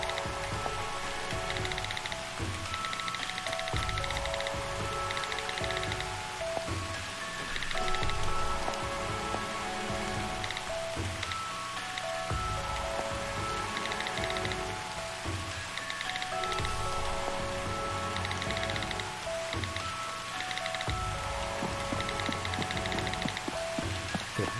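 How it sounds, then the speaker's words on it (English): Steady rain from the video game Monospaced Lovers, a continuous hiss of falling drops with soft layered music tones running beneath, even and unbroken throughout. "It's actually kind of cool how this silences the rain as well."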